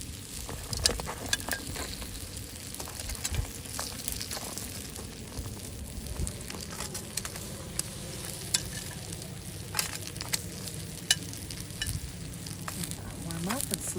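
Chilies and garlic-topped bread cooking on a hot outdoor grill give a continuous crackling sizzle with scattered pops and snaps, close and steady throughout, with no talking.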